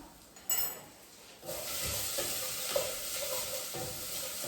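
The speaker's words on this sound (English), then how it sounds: "So give that a stir as well." Spicy black beans with chipotle are stirred in a hot pot, a spoon scraping through the sizzling mixture with soft knocks and clinks against the pot over a continuous frying hiss.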